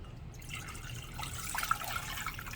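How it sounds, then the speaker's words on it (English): Bone broth poured from an opened container into a soup pot for an Italian bean and vegetable soup, a steady liquid trickle and splash close by, rising slightly toward the end, with no talk. "But I got my bone broth already open. We're going to pour that in here."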